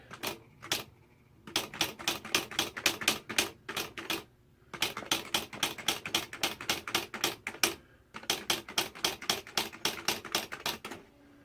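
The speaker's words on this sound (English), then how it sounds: "And we'll do some typing." Rapid, crisp key strikes on a Smith Corona SL80 electric typewriter come in three long bursts separated by short pauses, each keystroke sharp and close.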